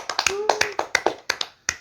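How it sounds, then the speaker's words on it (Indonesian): A few people clap their hands in a small podcast studio setting, a dozen or so sharp close claps in an uneven rhythm with brief gaps, alongside faint voices. "Oke, tepuk tangan."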